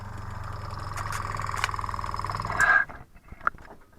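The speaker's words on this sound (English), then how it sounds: "Right, let's turn the little air compressor on." A small air compressor for an airbrush runs with a steady, pulsing mechanical chug for about three seconds, then cuts out abruptly and leaves a few faint clicks in the quiet afterward.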